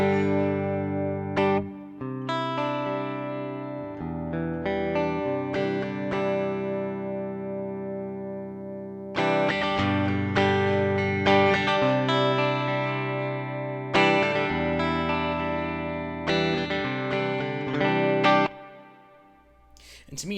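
An electric guitar played through a Joyo AC tone pedal with reverb rings out in sustained, slightly overdriven chords and single notes, with lingering reverb tails between phrases and a brief fade near the end.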